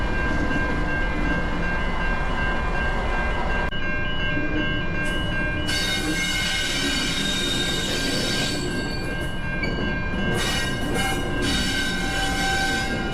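A locomotive rolls into a workshop with a loud, sustained rumble of wheels on track and high-pitched squealing tones that hold steadily and shift slightly as it moves close by.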